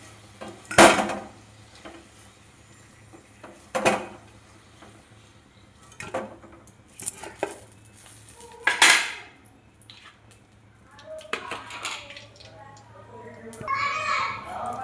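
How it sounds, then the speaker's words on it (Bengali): Fried potatoes are lifted from a pan one by one with a metal utensil, giving sharp clinks and scrapes at irregular intervals over a low background hum. Voices, including a child's, can be heard faintly in the background. "এখন আলুটা ভাজা হয়ে গেছে, এক এক করে বের করে নিচ্ছি।"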